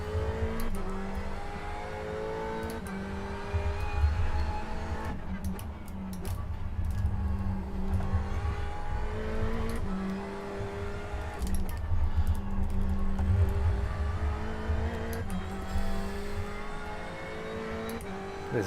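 A race car engine in a racing video game drones and revs steadily on the Nordschleife, loud and continuous with rising and falling pitch through gear changes, heard alone without talk.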